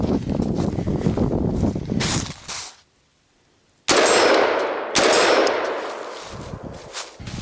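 Sustained rapid gunfire from a 7.5-inch short-barreled AR-15 rifle on an outdoor shooting course, loud and dense, broken by a brief pause before more heavy firing resumes.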